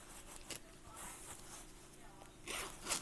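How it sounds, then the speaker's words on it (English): Zipper on a purse made of pop tabs, pulled in a few short, quiet scratchy strokes close by, with soft handling rustle in between. "The zipper"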